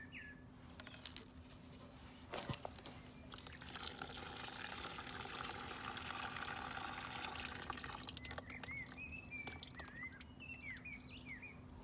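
Old oil draining from a 1962 Briggs and Stratton cement mixer engine into a drain pan, a steady soft pouring trickle with scattered drips, faint and continuous, with birds chirping in the background.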